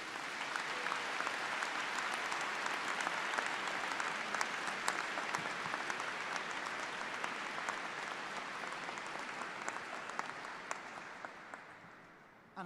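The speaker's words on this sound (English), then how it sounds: "Big round of applause for all the people who have supported you." Sustained applause from a graduation ceremony audience at Liverpool University, a large crowd clapping steadily for about twelve seconds before tapering off at the end.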